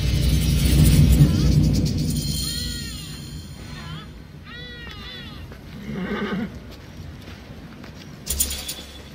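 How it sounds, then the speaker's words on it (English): Horses neigh and whinny in Assassin's Creed Origins, several sharp calls in the middle of the clip, with hoof clatter and a low rumble at the start and talking in between. "I have horses for us nearby."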